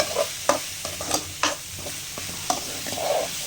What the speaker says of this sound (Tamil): இப்போ நல்லா வதக்கிக்கலாம். தக்காளி நல்லா வதக்கணும்.